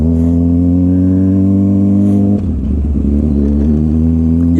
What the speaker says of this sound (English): I'm gonna do a little burnout again.